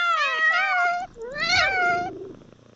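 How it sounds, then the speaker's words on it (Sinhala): A cat sound effect from a browser cursor feature: two drawn-out meows in quick succession, clear and close, with no talking. "click කරත් පූසෙක් ඇවිල්ලා මියාව් ගාගෙන අතක් ඇවිල්ලා එයාගේ ෆුට්ප්‍රින්ට් එක තියනලා යනවා"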